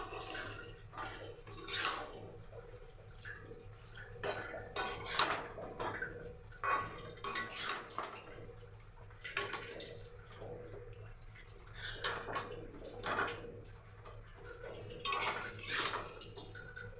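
Masala chicken being stirred and sautéed in a pan: a metal spatula scrapes and clatters against the pan in repeated strokes, with a soft wet sizzle underneath throughout.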